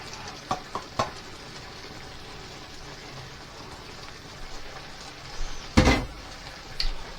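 Petit pois stirred into nearly cooked rice in a one-pan rabbit and chorizo dish, with a low bubbling sizzle under a few sharp spoon clacks and a louder scraping stir near the end.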